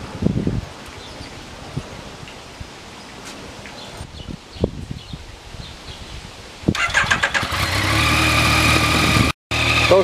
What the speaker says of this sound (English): bring the engine up to operating temperature